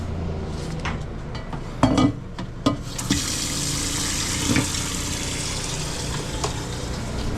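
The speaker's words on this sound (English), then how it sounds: "The water pump." A water pump in a food truck being set up in winter starts with a few sharp clicks and knocks, then settles into a steady rushing hiss of pumped water with a low hum underneath.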